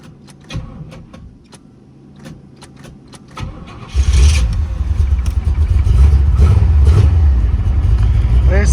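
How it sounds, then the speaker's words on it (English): A C4 Corvette engine, left sitting about a week and suffering a starter issue, cranks and then catches, settling into a loud, steady running rumble close by after a few seconds of cranking. "Let's see if we can get her to start."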